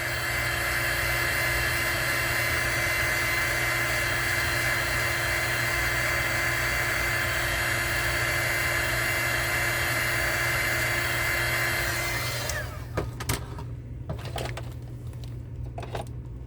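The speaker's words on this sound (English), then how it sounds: "let's see if the heat gun helps get that sticker off." A heat gun blows steadily at close range for about twelve seconds while a sticker is loosened from a thrift-store item, then cuts off, leaving a few light clicks and handling taps.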